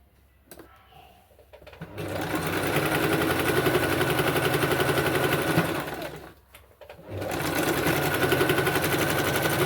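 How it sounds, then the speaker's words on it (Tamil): A sewing machine stitching a chudithar pant seam runs in two long, loud, fast rattling bursts, separated by short pauses, close up with no talk. "இங்கேருந்து இந்த இது வரைக்கும் ஸ்டிச் பண்ணிக்கலாம்"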